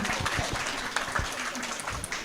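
Audience applause at a press event, a steady wash of many hands clapping at moderate volume, continuous throughout with no breaks.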